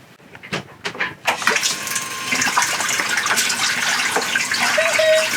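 An electric salt water pump on a sailboat runs with a rushing, gurgling flow of water that builds after a few sharp knocks and clatters at the start, continuing steadily and close by without any speech.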